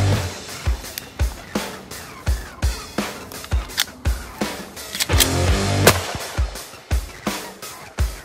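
Smith & Wesson M&P 10mm pistol firing 200-grain Underwood hard-nose rounds on an outdoor range, a rapid string of about fifteen loud, sharp reports with short echoing tails, some spaced evenly and a few fired in quick bursts.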